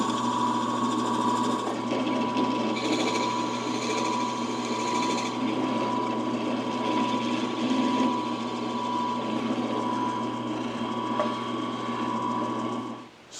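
A power drill boring dowel holes in wood runs as a steady, close mechanical whine with a grinding edge, continuing without a break and cutting off at the end.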